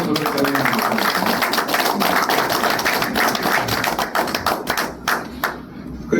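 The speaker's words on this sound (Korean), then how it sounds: "두 분 잠깐 일어나시고 박수로 부탁드립니다" An audience applauds two professors at a Korea University campus breakfast prayer meeting, with dense, steady clapping at close range that thins into scattered claps near the end.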